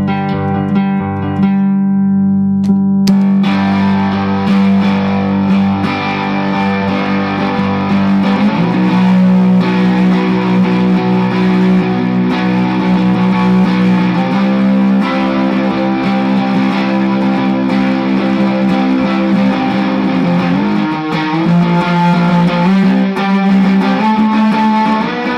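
Two distorted electric guitars play the bar chords of a song, one on full chords and one on the top three strings, a dense continuous wall of sound changing chord every few seconds, loud and steady.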